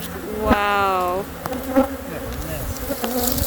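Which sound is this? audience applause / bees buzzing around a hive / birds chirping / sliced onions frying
bees buzzing around a hive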